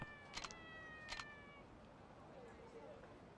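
A cat in Yakuza 3 Remastered meows twice after being given a catnip stick, short, clear game mews over a faint hiss and room noise.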